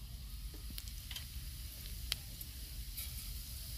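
Cumin seeds sizzling in hot mustard oil in a pan, a faint, steady hiss with a few light crackles and one brief click.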